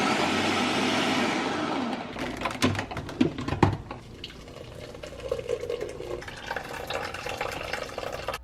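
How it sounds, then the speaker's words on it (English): A blender runs loud and steady, then settles into uneven whirring and clunking as it blends green juice from mango, green apple, ginger and lime in a small apartment kitchen. "So I use this blender to make my own green juice"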